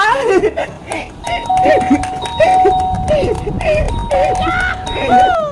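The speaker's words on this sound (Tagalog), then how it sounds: "Walang tao, pwede na akong magpindot sa doorbell nila." A house doorbell pressed over and over, its electronic chime ringing repeatedly with sustained tones overlapping in a loud, busy sequence close by.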